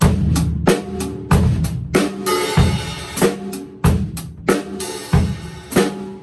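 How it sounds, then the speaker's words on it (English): A drum groove with hi-hats repeatedly opening into a washy sizzle and snapping shut, alongside punchy kick and snare hits in a steady rhythm. "close on 1, I might not play the hi-hats until beat 2."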